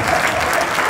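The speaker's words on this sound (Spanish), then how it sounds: "Fuerte el aplauso para ese super premio" Audience applause at a live Spanish-language comedy show at the César Manrique cultural centre, a dense, steady burst of clapping filling the whole moment, loud and close with no voices over it.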